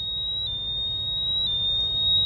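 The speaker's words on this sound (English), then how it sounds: "Okay, so that's it going into alarm." A portable gas detector going into alarm gives a steady, piercing high electronic tone that holds unbroken throughout, with faint pump hum beneath.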